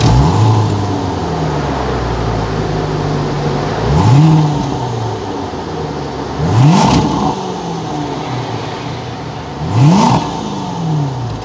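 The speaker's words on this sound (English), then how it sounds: "as we go inside to start this thing so you can hear the engine" A 2021 Range Rover Autobiography engine idles, then revs sharply three times, each rise swelling loudly and falling back to a low idle between bursts.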